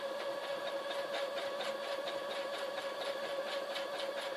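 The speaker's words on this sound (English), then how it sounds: "I like this sewing machine." A sewing machine stitching a feather pillow runs at a steady pace, its motor humming under a rapid, regular needle clatter, close and continuous with no voices.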